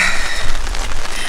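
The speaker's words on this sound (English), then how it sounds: "I came out and it is raining" Rain falls outdoors in a steady, loud, dense patter on surfaces, close and continuous with no voices.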